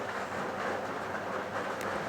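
Steady rumble and rattle of the Sonar Bangla Express, a Bangladeshi intercity train on the Chattogram–Dhaka Kamalapur line, rolling along the rails, continuous and fairly close with no pauses.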